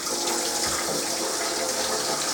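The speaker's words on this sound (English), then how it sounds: "I'll just fill the sink with some water." Tap water runs steadily into a kitchen sink, a close, constant rushing splash with no talk.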